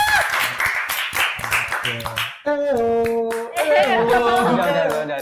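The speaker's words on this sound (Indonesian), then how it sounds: "ini dari teman-teman dari Wildcat, kasih tepuk tangan" A small group claps for guests from the Wildcat club on an informal talk show, quick close claps mixed with voices, then a burst of music and chatter.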